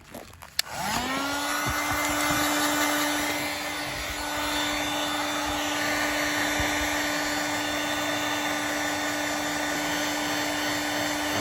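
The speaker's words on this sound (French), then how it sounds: "Je viens de chauffer au pistolet à chaleur." A heat gun blows hot air onto an electrical wiring harness being fitted inside a mast. A sharp click starts it, then a loud, steady blower whine and rushing airflow carry on without a break.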